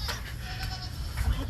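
A goat at a zoo visit bleats in a short, low, rough call close by, over a noisy outdoor background.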